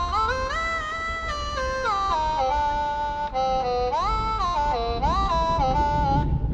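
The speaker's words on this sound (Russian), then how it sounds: "Вот как звучит портамента." A digital accordina plays with strong portamento, its reedy tone sliding smoothly between pitches in a continuous, gliding line, loud and close with no talk over it.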